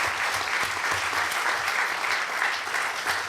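Audience applause at a French popular-university lecture event: steady, dense clapping from a crowd, sustained evenly for a few seconds with no talk over it.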